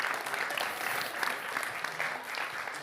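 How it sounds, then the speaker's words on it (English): Applause from an audience at a quantum correlated light and matter workshop, steady dense clapping throughout at a moderate distance with no talk over it. "one more, please, round of applause to them."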